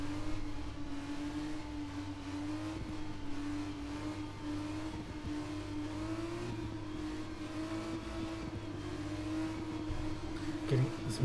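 Formula 2 race cars at Circuit Zandvoort in the Netherlands, a steady onboard engine whine building as the field gets going at a restart, fairly loud and continuous, with faint commentary beneath.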